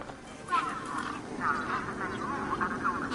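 Birds in Beyond a Steel Sky give nasal, duck-like quacks near a truck, several repeated calls spread across the clip over a muffled ambient background.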